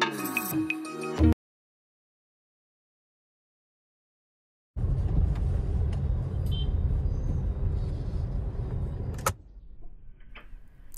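A car rolling slowly along a dark road, its low, steady engine and tyre rumble running unbroken for several seconds after a brief silence, then dropping to a quieter interior hum near the end.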